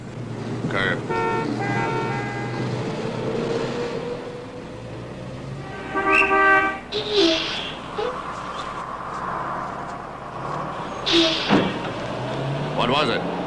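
A city bus passes on a street, sounding its horn in a few short toots over steady traffic rumble, with people talking nearby.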